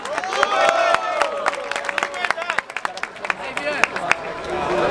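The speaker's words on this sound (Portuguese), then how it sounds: "Palmas pra essa batalha!" An audience at a rap battle in Barueri claps and cheers after the round, with sharp scattered claps and crowd noise under a voice that keeps talking through it.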